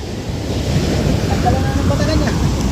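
Loud sea waves roll and wash continuously, with strong wind buffeting the microphone close up.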